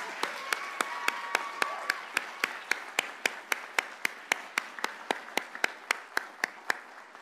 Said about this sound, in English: I think everyone's itching to give some applause, so let's applaud.